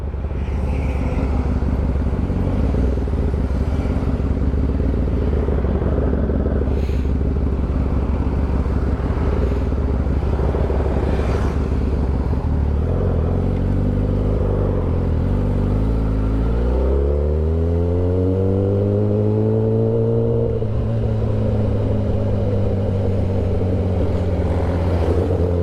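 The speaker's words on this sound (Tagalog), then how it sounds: "Sobrang na-miss natin mag-sports bike." A sports motorcycle is ridden with its engine droning steadily, then revving up through rising pitch sweeps before settling back to a steady hum, loud and close with no talk.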